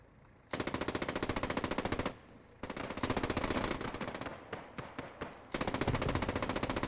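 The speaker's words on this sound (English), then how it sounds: "Suppressive fire going around here, just trying to keep the Allies from popping their heads up so the infantry can keep moving in slowly." Sustained machine-gun suppressive fire in Post Scriptum, loud rapid bursts with short pauses between them, then a long continuous stream of shots near the end.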